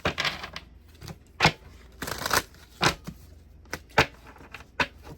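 Tarot cards are shuffled and riffled in quick bursts, crisp papery flutters separated by short pauses, close and fairly quiet with no talking.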